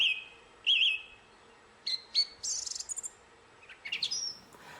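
Clear bird song with several separate phrases of high whistles, trills and rapid chirps, close and alone against a quiet outdoor background.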